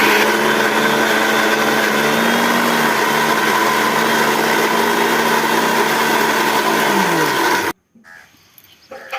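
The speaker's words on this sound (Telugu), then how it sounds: "మిక్సీ జార్లో అన్నీ వేసుకున్నాక వాటర్ ఏం అసలు యాడ్ చేయకూడదండి వాటర్ ఏం యాడ్ చేయకుండా మిక్స్ పెట్టుకోవాలి" Mixer grinder jar crushing spinach, garlic and chilli into a dry paste with no water added, a loud steady high whir lasting most of the clip before cutting off abruptly, leaving near silence.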